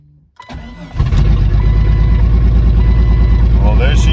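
A Jeep Cherokee XJ cranks briefly and catches on the first try after a fuel pump replacement, then settles into a loud, steady, rumbling idle close by.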